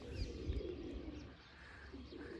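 A pigeon coos softly a few times from nearby outdoors, low throaty calls over faint background noise, with a brief chirp from another bird.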